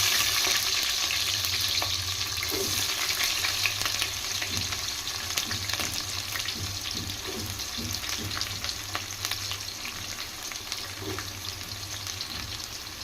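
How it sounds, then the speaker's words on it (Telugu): Onions sizzle and fry steadily in a hot pan with cumin and green chillies for Muslim-style chicken biryani, a dense continuous crackle with occasional stirring clatter throughout. "ఆనియన్స్ బ్రౌన్ కలర్లో ఫ్రై అవ్వాలా"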